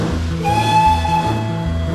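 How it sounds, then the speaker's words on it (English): A steam engine's whistle blows as one sustained, bright, steady tone over a rhythmic low chuffing, loud and close throughout. "Hey, Sir Handel, your whistle works, now try your safety valve."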